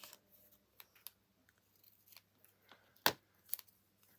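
Scissors snipping through a paper tag during a craft project, a few short crisp cuts with a louder snip near the end, quiet and close with faint rustling between.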